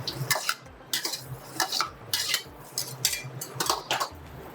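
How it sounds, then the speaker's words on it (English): Chopped onion and celery being stirred in a wok with a metal utensil, a steady run of loud scraping and clanking strokes against the pan, close and alone with no talking. "I'm going to put in my onion and my celery so that it can cook"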